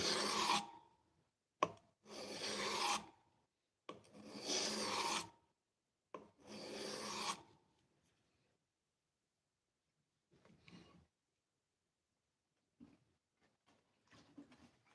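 A knife blade sharpened on a whetstone, with several loud, close rasping strokes in short bursts and pauses, followed by fainter scraping near the end.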